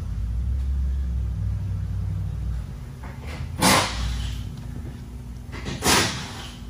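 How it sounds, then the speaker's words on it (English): A car with full exhaust rumbles at a low, steady idle nearby, with two brief sharp bursts cutting across it. "this thing's got some nice exhaust on it, doesn't it?"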